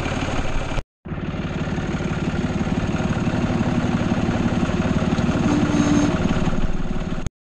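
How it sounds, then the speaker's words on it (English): A tractor engine idles steadily and loudly with a low, even rumble, briefly cutting out near the start before resuming. "my tractor's still running"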